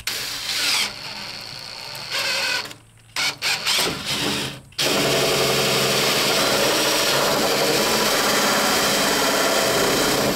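Drill driving a Forstner bit into material during a salvaged mobile home rebuild, with a couple of short bursts and then a steady, loud, continuous whirring grind that runs close-up to the end.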